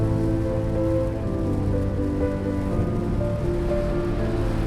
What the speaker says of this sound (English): just like the storm above us that has been following us this whole trip, as it rained one last time